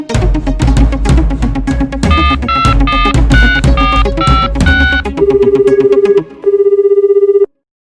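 A telephone rings in a Bhojpuri film scene. Loud dramatic music plays first, then a steady electronic ring repeats in even pulses, breaks off briefly, resumes and stops abruptly.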